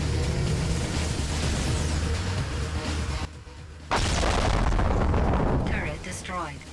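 Explosions in the arcade shooter Defender roar in loud, dense booming bursts that fill the stretch almost continuously, with a brief drop partway through before another heavy blast; a voice talks over the din.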